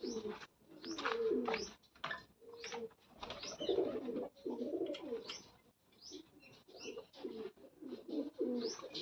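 Pigeons in a loft, a white hen pigeon among them, cooing steadily and fairly faintly in overlapping rolling calls with chirps, alone without talk.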